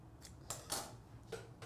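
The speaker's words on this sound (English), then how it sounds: "These scissors are awful." Several short, crisp snips of scissors cutting, spaced irregularly with brief pauses between them, close by and fairly quiet.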